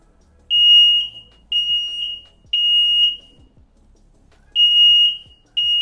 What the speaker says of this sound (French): le détecteur s'est bien déclenché comme on peut le voir